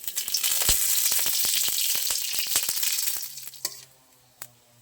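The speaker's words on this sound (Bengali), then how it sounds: "এবারে আমি ছোলার ডালের জন্য ফোড়ন দিয়ে নেব।" Whole spices—cardamom, cloves, cinnamon pieces and bay leaves—hit hot oil for tempering chana dal, bursting into a loud crackling sizzle with sharp pops that fades after a few seconds, leaving a few scattered crackles.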